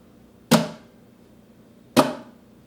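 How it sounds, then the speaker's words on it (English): Two sharp, percussive slaps of guitar strings struck against the fretboard, bright and snare-like, spaced about a second and a half apart with quick decays. "The other way that you can get that sound is by hitting the strings on the fretboard."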